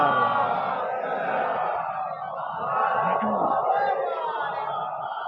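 A congregation at a Shia majlis recites salawat together, a dense mass of voices chanting in unison with a steady, loud, crowd-filled swell that holds throughout.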